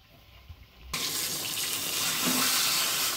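Tap water gushes suddenly and loudly into a sink as a fish head is rinsed under it, a steady close splashing that keeps going after a quiet start.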